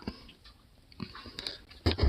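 Close, crisp crunching and biting sounds come in a few bursts, the loudest at the end, with quiet pauses between.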